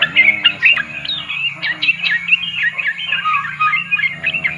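A sooty-headed bulbul (trucuk) held in the hand sings a lively, continuous run of bright chirping phrases close up, loud and clear against a faint low hum.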